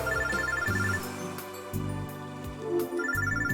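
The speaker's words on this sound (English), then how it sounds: "the phone droid in my bag starts to ring." A mobile phone ringtone chimes in the video game Robotics;Notes Elite, a looping electronic melody of repeated notes that rises and falls over about three and a half seconds, with no talk over it.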